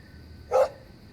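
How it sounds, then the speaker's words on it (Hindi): A hungry pet dog gives a single short, clear bark over faint background hum, in a drama scene. "कुत्ते के भौंकने की आवाज सुन रहा ना तू?"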